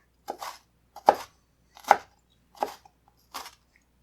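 A knife dices tomatoes on a cutting board for pico de gallo, making five distinct, evenly spaced chopping thuds close by against an otherwise quiet background.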